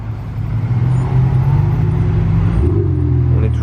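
A Ferrari Pista sports car's engine gives a loud, deep, steady rumble close by on a Monaco street, shifting pitch slightly as it revs.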